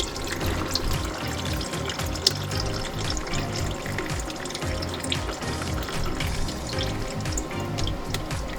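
Hot engine oil pouring and trickling out of a 2019 Volkswagen Atlas 3.6L during an oil change, a steady close liquid splashing and dripping that runs continuously without pause.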